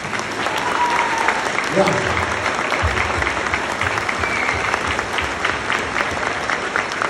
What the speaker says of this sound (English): And just give these guys a round of applause.